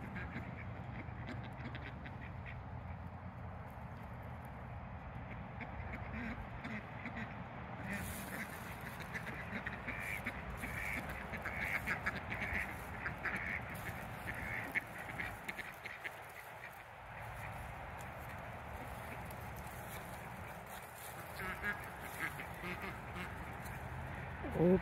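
Flock of ducks on a warm December 31st quacking continuously in a dense chorus outdoors, steady and fairly close, with a person talking at times underneath.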